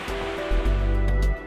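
Niagara Falls pours over its edge in a deep, continuous roar, with heavy low rumbling surges and a wash of spray, loud and close, with no voices.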